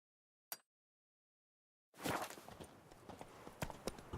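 Hooves of Geralt's horse Roach in The Witcher 3 clip-clop in a steady, close rhythm after a brief isolated knock and a moment of silence.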